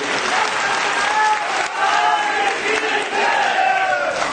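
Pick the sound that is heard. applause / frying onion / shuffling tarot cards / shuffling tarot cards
applause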